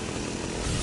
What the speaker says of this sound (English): Get fully shielded up before I go try and chainsaw people.